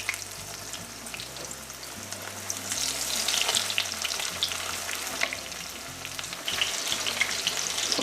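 Thin breaded venison cutlets coated with Parmesan fry in hot oil, a dense, continuous bubbling sizzle with crackling spits throughout, close and loud, with a low hum underneath.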